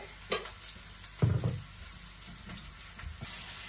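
Hilsa fish and onion frying together in a pan make a quiet, steady sizzle, broken by a couple of utensil clatters and bumps nearby.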